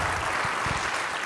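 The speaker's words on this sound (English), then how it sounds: "let's give everybody a round of applause for how great they did tonight" Church follies audience applauding, a brief burst of dense, steady clapping from a crowd that fills the hall at a moderate level.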